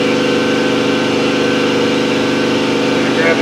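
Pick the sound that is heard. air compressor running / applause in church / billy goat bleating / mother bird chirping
air compressor running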